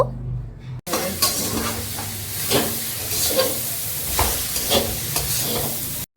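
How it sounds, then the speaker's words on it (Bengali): Cabbage, onion and chillies are stir-fried for veg chowmein in a hot pan. After a brief quiet start, a loud continuous sizzle sets in with repeated stirring scrapes and spatula knocks close to the microphone. "এখন ভালো করে সব সবজিগুলোকে ভেজে নেব"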